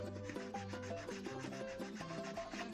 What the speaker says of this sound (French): Donc on y va doucement, on frotte tranquillement.